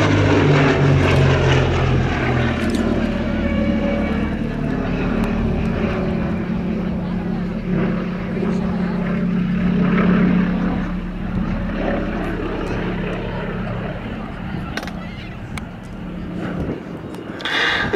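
A Gloster Gladiator biplane flies past at an air show, its propeller engine a loud, sustained drone that swells and then fades slowly, with a commentator talking over it.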